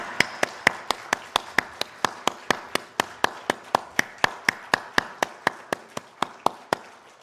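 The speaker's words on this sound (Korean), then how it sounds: "하나님께 영광의 박수 올려드리겠습니다." A congregation at a Sunday worship service claps in strict unison, about thirty sharp, loud claps at an even quick rhythm, each one crisp and separate with nothing else beneath them.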